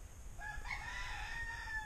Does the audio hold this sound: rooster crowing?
yes